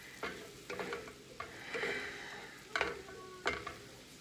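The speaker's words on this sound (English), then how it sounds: "Just stir them around and saute them a bit" Beef for beef bourguignon being stirred and sautéed in a pan, with a steady sizzle under intermittent scraping of the utensil, rising into several louder stirring strokes toward the end.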